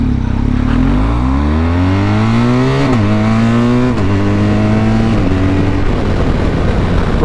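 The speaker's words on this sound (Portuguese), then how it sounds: "Os pipocos na troca de marcha é os melhores, rapaziada." A 1200 motorcycle revs hard through several gear changes, its engine note climbing and dropping in steps with sharp exhaust pops at each shift, loud and close with no talking.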